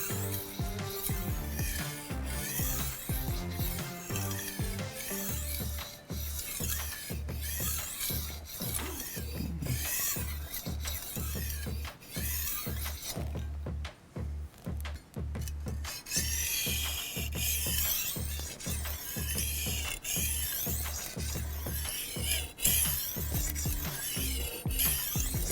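A knife blade is drawn back and forth across a sharpening stone, making a continuous gritty scraping with a steady, rhythmic stroke pattern, close and fairly loud, with no voices.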